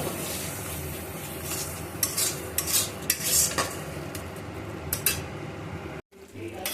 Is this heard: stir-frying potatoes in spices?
yes